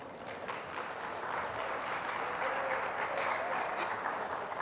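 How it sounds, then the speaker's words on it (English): Steady audience applause at an interactive dialogue on children's rights and climate justice fills the room, a dense, even wash of clapping held at moderate level throughout without speech. "we should actually give ourselves a round of applause for that"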